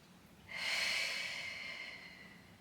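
A single deep breath during a Pilates exercise, a long, airy inhalation that starts abruptly, swells close and loud, then slowly fades over about two seconds.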